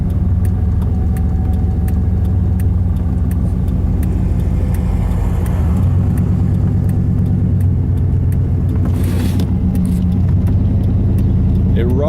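Old truck accelerating and cruising down a street, a steady, loud engine rumble with gear shifts partway through, under a person talking.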